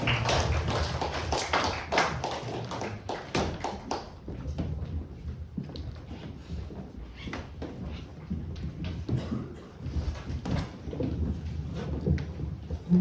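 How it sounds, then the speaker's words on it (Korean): Church congregation at a student Sunday service applauding, a burst of dense clapping at first that thins into scattered claps and taps, fairly close, with no talk. "우리 하나님께 영광의 박수를 올려드립니다"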